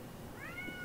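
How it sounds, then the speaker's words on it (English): A house cat gives a single short meow with a rising then level pitch, fairly quiet over a low room hum. "that is my cat."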